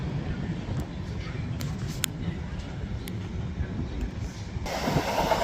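A Class 450 electric multiple unit passes through Clapham Junction with a steady rumbling roll of wheels on rail and faint clicks, continuous throughout and fairly close.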